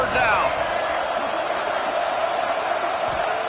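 Stadium crowd at a Tech college football game on third down, a dense, steady roar of cheering and noise that holds loud and unbroken throughout, with a commentator's voice running over it.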